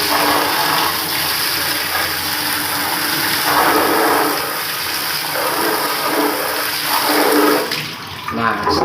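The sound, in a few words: spraying water to clean an air conditioner fan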